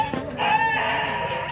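A rooster crows in one long, harmonic call that rises and holds for just over a second, fairly close and clear over faint background noise.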